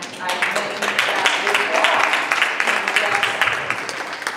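An audience claps at an awards ceremony, steady dense applause lasting several seconds, fairly close and loud, with a voice speaking faintly underneath.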